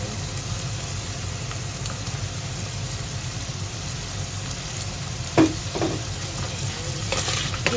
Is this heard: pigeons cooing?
no